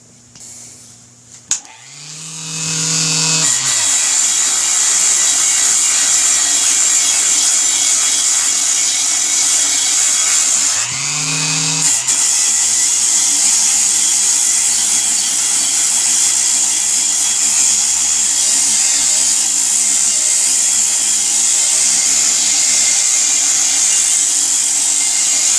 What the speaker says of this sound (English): Gotta let my Dremel cool down, guys. I'm starting to smell the armature.